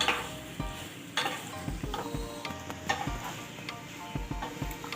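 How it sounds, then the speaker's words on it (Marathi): Red pumpkin usal being stirred in a pan over low sizzling heat, a spoon knocking and scraping the metal in an irregular rhythm, close and clear with no talking. "दोन तीन मिनटं फक्त आपल्याला असं खालीवर करून घ्यायचं"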